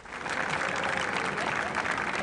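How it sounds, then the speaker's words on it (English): An audience at a school spring celebration applauds its athletes with steady, fairly even clapping that holds throughout, heard from a moderate distance. "Let's give all of our athletes a round of applause, please."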